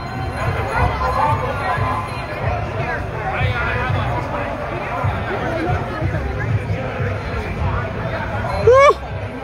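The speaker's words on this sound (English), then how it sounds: "Look at the crowd!" A crowd cheers at a Canadian freedom rally outdoors, a continuous rumble of shouting and voices with scattered louder whoops, and a brief sharp whistle-like squeal near the end.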